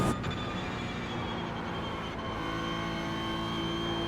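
A Porsche 911 in the iRacing sim holds a steady, sustained engine drone at constant loudness, with a rising whine near the end and no talk over it.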